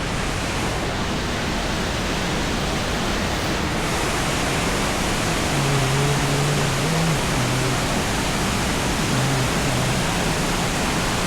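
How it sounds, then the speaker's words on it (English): A steady, dense rush of falling water from a flooded Arkansas creek waterfall pours continuously, loud and near, with a faint low hum partway through. "There's the falls."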